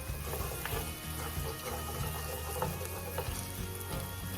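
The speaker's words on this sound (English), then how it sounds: "Onions cooking smells so good to me." Onions sizzling in a pan while chicken breasts with garlic and lemon are being prepared: a constant, close frying hiss with small crackles and occasional light clinks.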